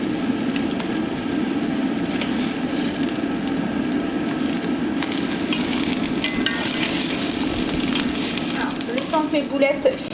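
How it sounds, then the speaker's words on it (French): Chicken meatballs browning in a hot pan for a curry dish, a loud continuous sizzle with crackling spatters close by, and a few scraping stirs toward the end; nobody speaks. "Mes boulettes finissaient de dorer"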